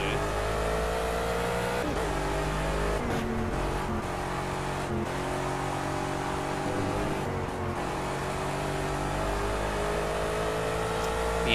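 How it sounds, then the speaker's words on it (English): Gumpert Apollo S race car engine in Project CARS at the Nürburgring, a loud continuous high-pitched roar accelerating steadily with brief dips at gear changes, close and alone throughout. "The engine's definitely accelerating a lot better now with the lighter fuel load."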